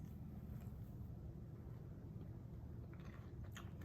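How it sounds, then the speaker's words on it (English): Biting into a paal appam with crispy edges and a soft middle, giving a soft, muffled crunch over a steady low background rumble, with a few crisper bites near the end. "can you hear that slight crunch on the sides?"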